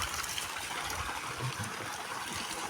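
Hot water runs out of a water line, a steady, close rushing trickle that continues evenly throughout with no voices.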